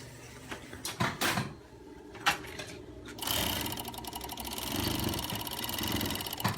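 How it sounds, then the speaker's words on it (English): A serger stitches a scrap of fold over elastic, starting after a few scattered handling clicks and settling into a steady, close mechanical whirring hum that runs to the end. "I'm just going to quickly go over to the serger and sew this together."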